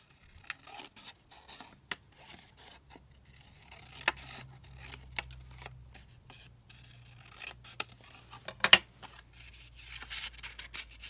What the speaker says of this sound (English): So I'll just snip it down as we go.